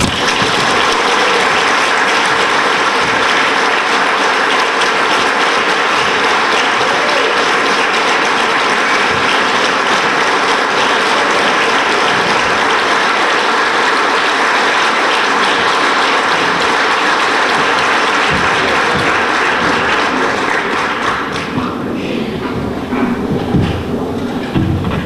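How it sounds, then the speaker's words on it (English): A banquet audience gives sustained applause to an Outstanding Farmer Award recipient, a loud, dense, continuous clapping from a large room that carries on for a long stretch before thinning near the end. "please help me in giving a round of applause"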